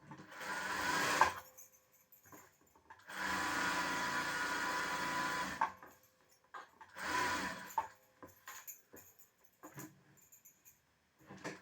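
A sewing machine runs in three bursts while attaching a blouse sleeve: a short run, a longer steady whirring stretch, then a brief one, each separated by quiet handling noises nearby.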